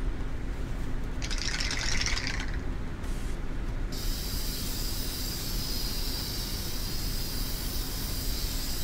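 Spray paint hissing in the video game inFAMOUS Second Son, a steady loud aerosol spray running throughout with shifting bright bursts over a dense, noisy game background.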